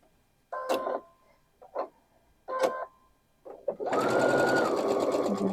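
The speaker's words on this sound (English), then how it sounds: "let's go back to the sewing machine" A sewing machine stitching quilt block seams for a Crazy House block, a few short stuttering stitch bursts separated by pauses, then a steady longer run of stitching, close and with no talk.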